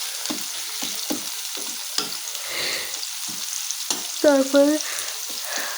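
Chopped onions sizzle steadily in a hot pan while a utensil scrapes and stirs them in irregular strokes, close and continuous; a voice speaks briefly near the end.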